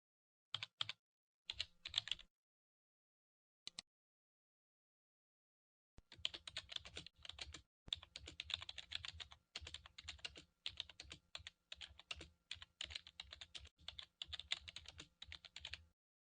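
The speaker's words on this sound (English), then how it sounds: "just click on the Edit button and type in your word" Crisp computer keyboard keystrokes: two brief bursts and a lone tap, then a long steady run of rapid typing as a word is entered, close and clear with no talk.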